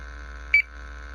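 A single short electronic beep from a four-gas detector alarm sounds once, clear and high-pitched, over a faint steady hum.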